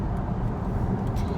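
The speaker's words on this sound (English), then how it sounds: "if you hear a roar, that's just the wind." A steady, dull roar of wind rushing past a moving Tesla Model Y electric car, even and continuous with no engine note.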